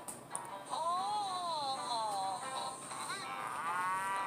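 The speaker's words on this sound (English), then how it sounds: "Hey, look, the cows." Cattle mooing in a cartoon scene, a long wavering low call near and clear, followed by a second rising moo, with no speech.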